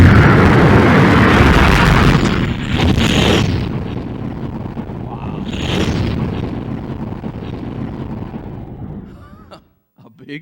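A loud, sustained rumbling explosion effect for the Big Bang, a dense roaring wash with bursts and booms that swells and slowly fades out near the end.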